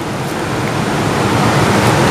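Swollen river water rushing after a rise in water level, a loud, steady broadband roar close by with no pauses and no other sounds.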